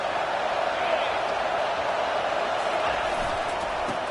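A stadium crowd in a College Football 25 game, a steady, loud roar of cheering voices that holds evenly throughout, with no break.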